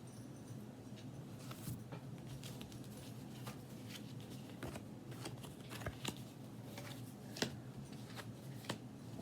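Tarot cards are shuffled by hand, a soft continuous riffle of papery flicks and small snaps, close and fairly quiet, with no talking.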